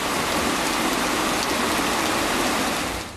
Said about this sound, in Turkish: İstanbul'da iki gün boyunca sürmesi beklenen sağanak etkisini gösterdi.